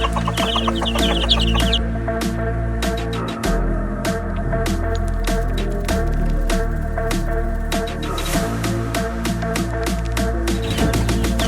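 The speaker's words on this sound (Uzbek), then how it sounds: "Mana shu tovuqlar." Adler and Jersey Giant chickens clucking on a farm, a busy mix of close, repeated clucks and short calls from several birds, with scattered scratches and knocks.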